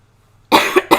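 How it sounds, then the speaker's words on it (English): Two or three sharp coughs in quick succession, close and loud, after a moment of near silence. "So I keep coughing."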